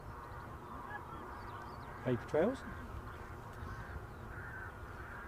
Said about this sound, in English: Bit of bird scaring in the background.